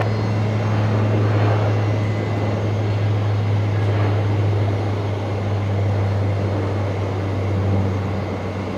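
Dash 8 turboprop aircraft at Brisbane Airport at night: a steady, loud engine drone with a strong low hum and a faint whine, continuous and unbroken throughout.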